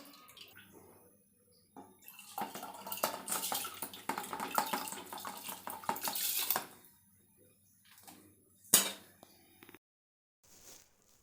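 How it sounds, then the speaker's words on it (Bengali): Beans and carrots being rinsed under running water in a kitchen, splashing and trickling in bursts with a brief clink of a pot, then quiet gaps and a final splash. "তো এই যে কারণে আমি বিনস গাজর এগুলো একটু ধুয়ে নিচ্ছি বাইরে থেকে কিছু আনার পরে।"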